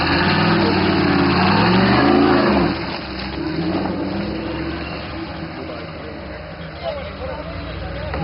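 An offroad car's engine runs loud and close at an offroad rally, revving hard at first, then settling into a steady rumble, with voices talking over it.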